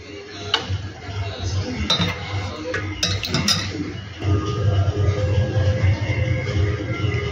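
Dishes and utensils clink and clatter close by as egg curry is dished up for a takeaway order, scattered sharp chinks over a steady low background hum.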